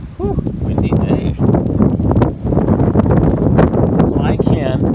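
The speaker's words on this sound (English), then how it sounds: "Whew, windy day" Gusty wind buffeting the microphone with a low rumble, while a voice talks intermittently over it.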